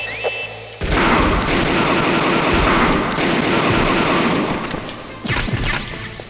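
Heavy gunfire and crashing impacts from Metal Gear Solid on PC, a loud sustained barrage of shots and blasts after a quieter opening, with a fresh burst near the end.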